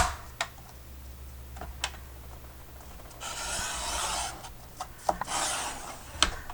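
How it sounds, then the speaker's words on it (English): A paper trimmer slicing a 12 by 12 sheet, two drawn-out scraping cuts amid small clicks and taps, close and quiet with no voices. "Need a better trimmer because this one does not work very well."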